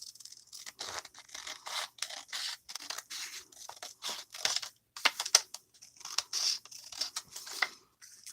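Scissors trimming paper in a series of short, crisp snipping and rustling cuts, close and fairly quiet, spaced unevenly with brief pauses between them and no talk.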